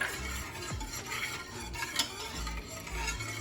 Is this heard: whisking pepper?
yes